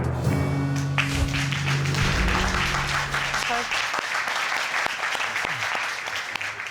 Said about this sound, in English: I saw you clap.